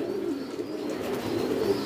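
A male high-flying pigeon coos in a low, soft, continuous murmur, close and steady, with no talking.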